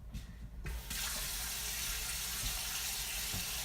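A kitchen tap is turned on and hot water runs in a steady, loud rushing stream into a sink or container, close up, with no voices.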